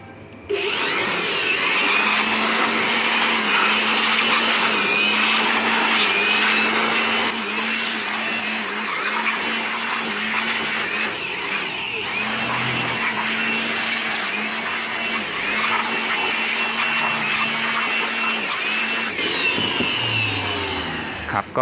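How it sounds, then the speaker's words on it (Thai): An air blower blasts dust out of a Leonics 1500VA/900W UPS, a loud continuous roaring hiss that holds steady for over twenty seconds with a slight dip partway and a few small clatters. "ก็เดี๋ยวเป่าฝุ่นก่อนแล้วค่อยดู วงจรกัน"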